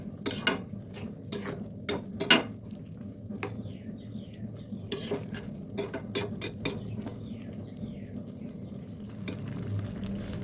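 Kochur loti with mustard paste stirred in a pan, with scattered scraping clicks of a spoon against metal over a soft low sizzle, fairly quiet and unhurried.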